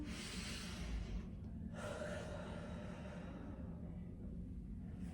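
A slow, deep inhalation during a yoga flow, a soft breathy rush close to the mic that swells, pauses briefly and continues over a faint low room hum.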